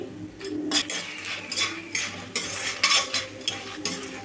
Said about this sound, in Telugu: ఇట్లా కలుపుతానైతే వేయించుకోవాలి